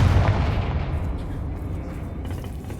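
A Confringo fire-blast spell cast in Hogwarts Legacy, heard as a heavy, booming burst of rumbling, explosive noise that is loudest at the start and fades slowly over a few seconds.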